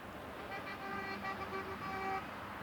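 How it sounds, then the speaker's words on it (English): A car horn toots a few times from a passing car beside a disc golf course during a charity tournament round, moderately faint over steady road and outdoor background noise. "despite a few honks from a passing car"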